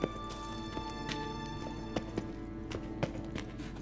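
A horse's hooves clip-clop in The Witcher 3 video game, a series of sharp, fairly close footfalls in an irregular rhythm over a steady background, with no talking.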